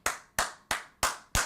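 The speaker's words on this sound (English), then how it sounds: "everybody should give a round of applause to Ryan Clark" One person clapping five times in an even, steady rhythm, each clap sharp and close with a quick decay, no other sound between.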